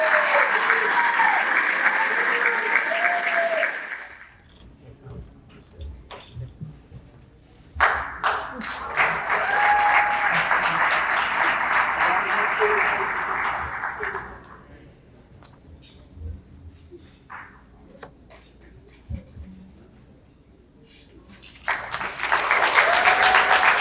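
Applause for young men at a scholarship gala: the clapping swells, fades into a lull with scattered claps and room noise, returns strongly mid-clip, dies away again, then rises once more at the end.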